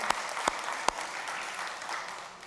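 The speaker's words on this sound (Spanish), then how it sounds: "Al Señor un aplauso." A church congregation applauds the Lord, a few sharp louder claps standing out early over a steady patter of hands that tapers off gradually.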